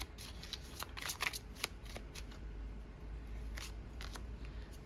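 Tarot cards are drawn and shuffled close up, a run of quick papery riffles and slaps with brief pauses, no voice over them.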